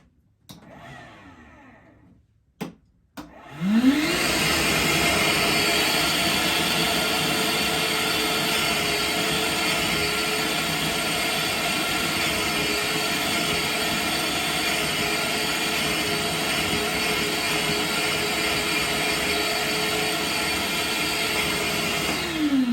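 A carpet extractor pulls wet cleaning solution out of a rug after a couple of brief clunks and a start-up, then runs as a loud, steady suction roar with a faint whine until it spins down at the end.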